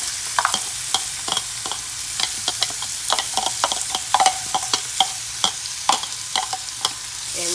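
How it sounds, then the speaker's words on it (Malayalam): Three large onions and two sprigs of curry leaves fry loudly in a pan with a steady crackling sizzle, broken by frequent sharp clicks and scrapes of stirring close by. "ഇതൊന്ന് വറുത്തെടുക്കണം നല്ല ബ്രൗൺ കളറിൽ വറുത്തെടുക്കണം"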